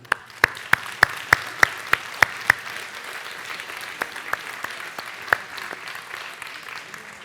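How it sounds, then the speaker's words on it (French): At a mayor's New Year reception in a French village hall, an audience claps for young club members, starting as a few distinct slow claps and spreading into thin, scattered applause. "Vous savez ce que vous pouvez faire, c'est les applaudir."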